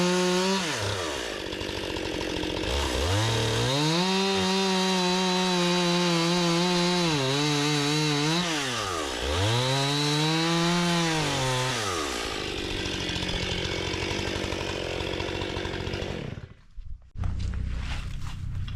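A Stihl MS261 or MS661 chainsaw cutting logs to about nine-foot lengths for a sawmill roars loud and close, revving up and down through repeated cuts before idling and cutting out briefly near the end.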